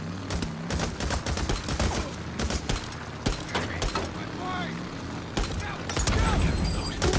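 Rapid gunfire bursts crackle in the video game Days Gone, a busy fusillade of shots over engine-like rumble, loud and close, with a voice talking over parts of it.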